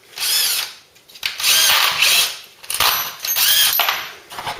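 A power drill bores into metal on a Ford Cortina, whining in three or four loud, close bursts of about a second each, separated by brief pauses.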